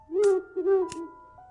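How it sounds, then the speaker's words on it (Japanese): An owl hoots in cedar treetops beside a shrine gate: two breathy, low hoots close together, followed by a faint tail of quieter sound. "いつでもフクロウが鳴いている。"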